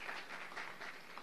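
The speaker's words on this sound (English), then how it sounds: "Let's give her an applause." Audience applause at a Teacher of the Year ceremony, a faint, steady wash of many hands clapping for about a second with no voices over it.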